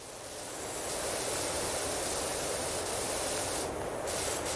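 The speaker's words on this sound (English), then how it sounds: "I'm spraying at the far end of the property" A pressure washer sprays steadily at the far end of a property during a cleaning job, giving a continuous broadband hiss that stays loud and unbroken throughout with no talk over it.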